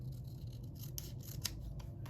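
Scissors snip through planner paper in a quiet room, a few soft close crunches and rasping cuts over a low steady background hum, with no talking.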